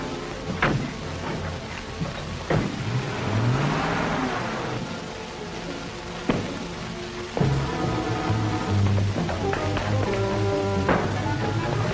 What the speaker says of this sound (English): I'll follow in my car.